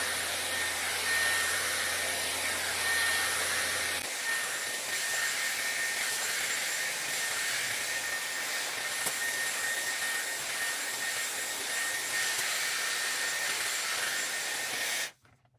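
A Dyson hair styler blows air in a steady, loud, breathy rush that holds for about fifteen seconds before cutting off abruptly, with a faint low hum at the start.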